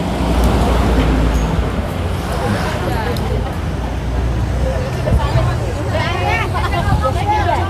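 Crowd babble fills a busy traditional market while traffic rumbles past, with engines and vehicle noise blending into a dense, continuous bustle and voices talking throughout.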